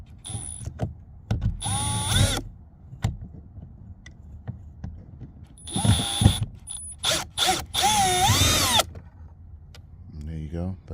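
A power tool backs out T20 Torx screws from the interior door panel of a BMW X5 E70, running in several short whirring bursts with pauses between, close and fairly loud, while a person talks in between.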